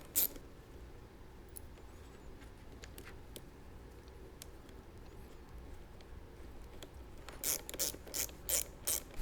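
A ratchet with a 10 mm socket tightens a headlight bolt on a Jeep Wrangler JK, giving quiet scattered clicks and then a few louder bursts of rapid ratcheting near the end, with no talking.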